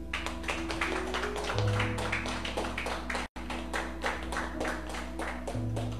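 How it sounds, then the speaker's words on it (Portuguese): A church congregation applauding God at a live worship service, rhythmic clapping running beneath held keyboard music, steady throughout with a brief dropout midway. "aplaude a Ele"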